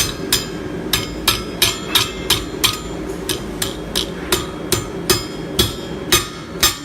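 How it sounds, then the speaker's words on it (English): A hammer taps steel collars together on an anvil in a metal workshop, about fourteen sharp, ringing strikes in a steady, even rhythm, close and loud, with no talk. "Put them on the anvil, tap that together."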